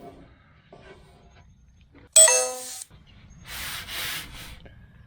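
Body filler is sanded on the fender of a 1968 Chevelle Nomad under restoration: a soft rubbing scrape, then a sharp metallic ding, then a second, broader sanding stroke close to the microphone.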